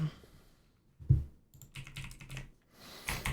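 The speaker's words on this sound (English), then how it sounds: "mechanical keyboard, but it sure is loud, right?" Clattering keystrokes on a loud mechanical computer keyboard, close and fairly loud, arriving in irregular bursts with short pauses between flurries of typing.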